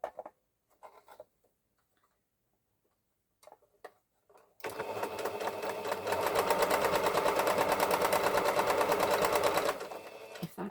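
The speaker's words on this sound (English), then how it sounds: "I'm going to sew the seam to the interfacing, to the facing, in the hope that it will make it lie flat." Sparse faint clicks and handling noises, then a sewing machine starts stitching a dress seam to its interfacing and facing, running loud and steady with a rapid even needle rhythm for about six seconds before easing off.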